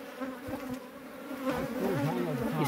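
Africanized honey bees swarm at a hive in a rock cliff face, a close, continuous buzzing with wavering pitch that grows louder partway through, no voices.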